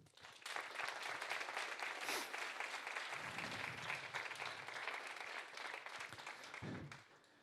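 Sustained audience applause at a tech community event honoring the event organizers, a dense wash of many hands clapping that stays loud and steady for several seconds before tapering off.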